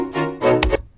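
A string section played on a Complete Control keyboard, its pitch bent up from ten semitones down back to normal as the beat drops in, on a track. A short sustained string swell sounds alone, with a low thump near the end.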